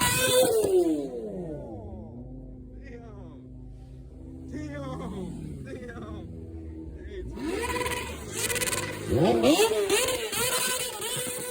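Motorcycles revving at a car meet, engines rising and falling in repeated throttle sweeps, loud and close, with a crowd and voices in the background.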